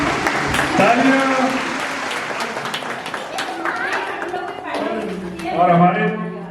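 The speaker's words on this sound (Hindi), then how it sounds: "तालियां" An audience claps at a Gita Jayanti festival prize announcement, a moderate patter of applause beneath a voice talking over it, with a louder swell near the end.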